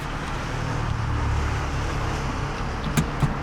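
A 2020 Nissan 370Z NISMO with a six-speed manual pulls away, its engine a steady low rumble inside the cabin, followed by a couple of brief clicks near the end.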